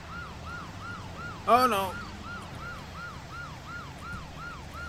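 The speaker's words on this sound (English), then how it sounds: "I guess sirens don't do much." A wailing siren in the video game Just Cause sweeps up and down in a steady repeating cycle, moderately loud, while a voice briefly exclaims partway through.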